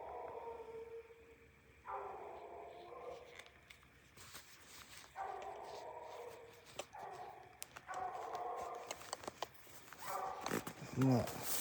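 A hunting dog barks at treed game at night, short bursts of baying coming in repeated bouts from a moderate distance, with people talking in between.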